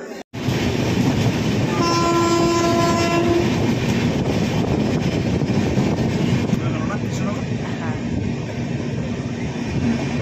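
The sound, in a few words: Sealdah Jalpaiguri Humsafar Express train running with horn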